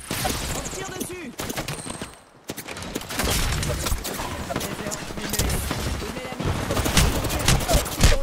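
Dense bursts of automatic and single-shot gunfire crackle through an Apex Legends firefight, loud and close, with a brief lull before the shooting resumes and voices talk over it.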